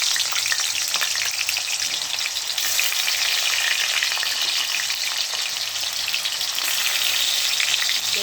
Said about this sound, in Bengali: আলুটা ভেজে নিই, নতুন আলু খোসা ছাড়াইনি।